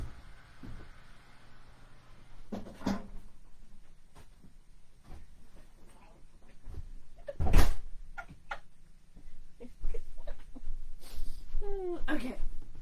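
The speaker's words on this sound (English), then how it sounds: "and I'm going to close the door." A door at home being shut, with a single loud close thud midway, surrounded by quieter knocks and rustles in an otherwise quiet room.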